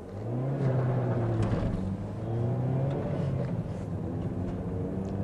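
A Ford Figo Aspire accelerates on a test drive, heard from inside the cabin as a steady, moderately loud engine drone that holds its pitch for several seconds with no one talking.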